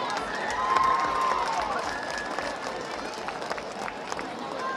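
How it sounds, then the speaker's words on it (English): Crowd applause and cheering for the senior cheerleaders at a Niceville Eagles versus Navarre Raiders high school football game, a broad, steady roar of clapping from the stands, moderately distant, with a voice audible over it. "one more big round of applause for your senior class of cheerleaders"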